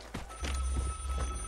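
A telephone rings in the game VIGOR, a bell-like tone with a few loud, chunky bursts sounding over low background rumble.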